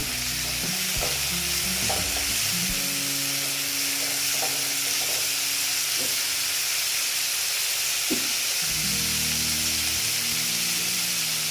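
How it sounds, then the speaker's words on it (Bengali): Ginger and tomato fry in a pan for a Bengali shol fish dish, giving a steady loud sizzle with occasional stirring scrapes and clinks, no voices. "এটা আমি আদাটা আর টমেটোটা ভেজে নিচ্ছি"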